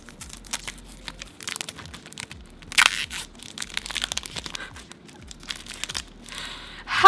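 Plastic wrap crinkles and tears off a Pat McGrath Sublime Perfection Foundation box in close, quiet bursts of crackling, with a few sharper rips and rustles between softer handling noises.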